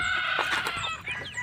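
Chicks at a feeding trough, a busy cluster of high peeping and chirping calls, fairly close and continuous over soft background noise.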